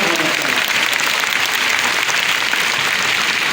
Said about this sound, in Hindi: एक बार जोरदार तालियों से आप उनका स्वागत करें।